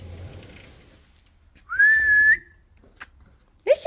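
Whistle blown outdoors to recall dogs in a garden during training: one clear, steady high tone of about half a second, fairly close, between quiet stretches and faint movement sounds.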